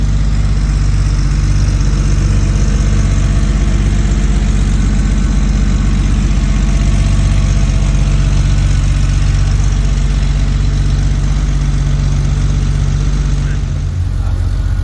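A Porsche 993 flat-six fitted with cat bypass plugs idles steadily and loudly with a deep, continuous rumble, close up throughout with no break.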